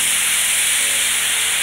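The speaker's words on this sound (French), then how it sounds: "On va ouvrir la valve pour laisser l'air s'échapper." Air rushes out of an opened valve on an above-ground pool pump, a loud, steady, close hiss that holds constant throughout with no voices.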